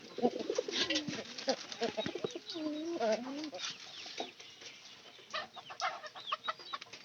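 Pigeons kept at a house coo and call in an ongoing flock chorus, with rising and falling throaty notes and occasional clucking sounds, moderately close, with some indistinct background voices.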